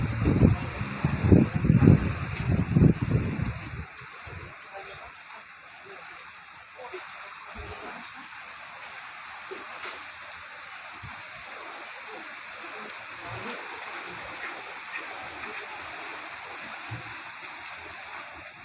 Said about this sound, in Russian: дождь херачит.